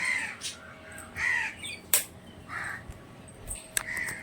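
Crows caw outdoors at dawn, around a quarter to six: a series of short, harsh caws from several birds at moderate distance, irregularly spaced, with a sharp click partway through.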